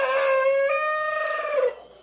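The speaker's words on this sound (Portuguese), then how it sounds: "Na hora dessa da tarde, o galo cantando." A rooster crows once in the late afternoon on a rural farm, close and loud, a single drawn-out call lasting under two seconds.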